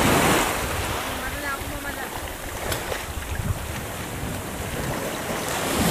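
Sea waves break and wash continuously at a beach, with heavy wind buffeting the microphone throughout. A brief surge of surf rises near the middle, and no voices can be made out.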